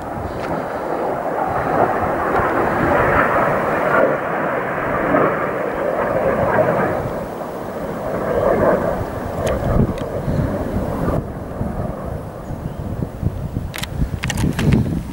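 A fighter jet passes overhead with a broad, steady roar that swells and fades amid wind noise on the microphone, followed by a few sharp knocks near the end.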